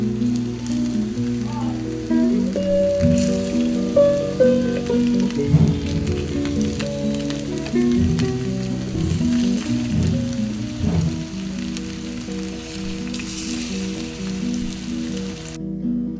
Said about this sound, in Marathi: तेल गरम झालंय, तेलात असं सोडते मी.